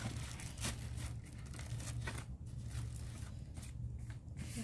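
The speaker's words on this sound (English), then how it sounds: "I'm gonna tuck in the plastic" Plastic wrapping crinkling and rustling as it is tucked in around a rose arrangement, close, soft, continuous crackles with brief louder bursts.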